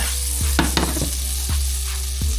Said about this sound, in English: Add the butter in there. Go ahead and melt down a little bit.